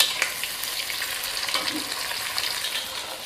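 Tofu frying in a pan as part of a Thai sweet pepper stir-fry, giving a steady soft sizzle and crackle throughout, moderately quiet and close, with no speech.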